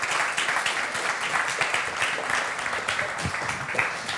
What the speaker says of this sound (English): I would ask you to give a round of applause for my panel